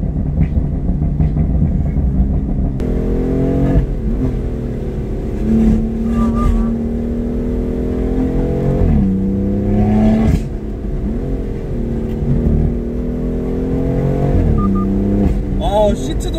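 A used BMW F82 M4 engine rumbles and revs up repeatedly from inside the cabin, the exhaust note rising and falling with pops, with people talking over it.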